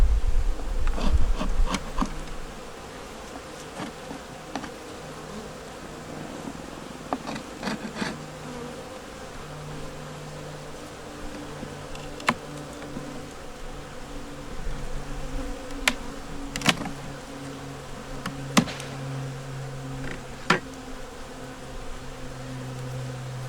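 Honeybees buzzing around an open hive during an inspection, a continuous low drone with individual bees zipping close past at intervals and occasional soft knocks from handling the frames.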